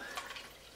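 Water is poured into a glass to mix an LMNT citrus salt electrolyte drink, a brief, soft splashing fill heard alone at close range.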